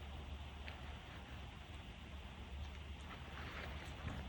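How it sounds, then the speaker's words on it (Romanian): Outdoor wind blows with a low, steady rumble and faint buffeting at the microphone. It is quiet and continuous, with no voices. "și bate vântul"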